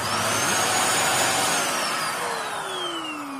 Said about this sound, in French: il est relativement bruyant car c'est un aspirateur cyclonique